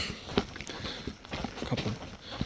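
Soft, uneven footsteps crunch along a trail at a slow walking pace, faint and outdoors in the Missouri River Breaks, with no talking.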